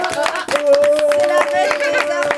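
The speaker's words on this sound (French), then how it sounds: "Mais on applaudit tous" An audience at an Epiphany celebration held by an archers' club claps together in a steady, even rhythm, close and fairly loud, with a sustained tone and voices continuing underneath.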